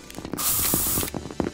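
A can of spray paint hisses in one loud, steady burst of about three-quarters of a second as graffiti is sprayed in the video game CS:GO, with faint clicks and game sounds before and after.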